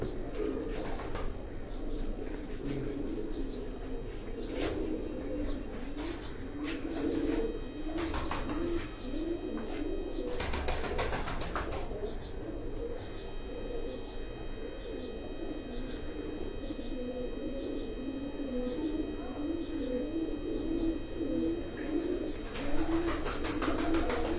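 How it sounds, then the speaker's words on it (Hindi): Pigeons coo on a rooftop in Jalalpur Bhattian, a steady chorus of soft repeated calls with occasional chirps running through the whole stretch, fairly near and continuous. "आज क्रीज में भी हैं कबूतर"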